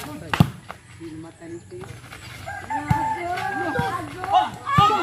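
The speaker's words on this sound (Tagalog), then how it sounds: "manok." A rooster crows and hens cluck nearby, mixed with scattered sharp knocks and background murmur.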